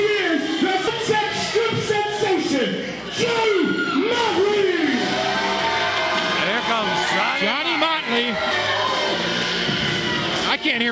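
A crowd of girls and kids screaming at a live bout between Osama Hessein and Johnny Motley: loud, continuous high-pitched shrieks and yells filling the space, with someone talking over the din.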